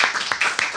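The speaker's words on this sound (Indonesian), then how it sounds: "Tepuk tangan." Brief, scattered clapping from a small studio audience welcoming a guest singer on a rooftop talk show, a few distinct hand claps standing out over a light clatter.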